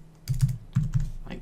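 A few close, crisp keystrokes on a computer keyboard as a number is entered, two quick pairs of taps followed by a final key press.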